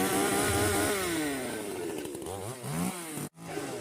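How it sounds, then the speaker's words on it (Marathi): A chainsaw-type machine with a freshly changed blade runs on a Konkan farm where a wooden platform is being built. The close engine drones and revs with rising and falling pitch, then cuts out abruptly for an instant before roaring again. "इतक्या वेळानंतर शेवटी मशीन चालू झाली"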